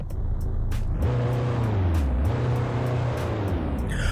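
Diesel car engine idling steadily close by, a low continuous rumble that rises and dips in pitch as the revs change briefly, with no talking.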